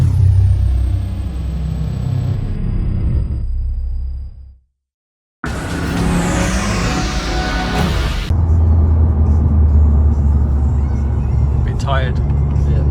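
An engine rumbles steadily from inside a moving car, low and continuous, broken by a brief silent cut partway through before the drone resumes, with voices talking over it.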